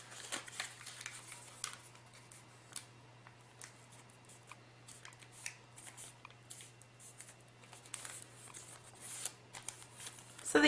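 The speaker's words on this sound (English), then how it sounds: "Get a good crease and then fold in." Paper being folded and creased close up to make a paper dress, giving soft crackles, rustles and sharp little creasing snaps at uneven intervals over a quiet background hum.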